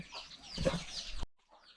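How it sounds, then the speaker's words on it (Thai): A chicken on a farm gives a short, faint cluck at close range, then quiet follows. "เดี๋ยวเรามาให้ข้าวลูกไก่ก่อนนะครับ"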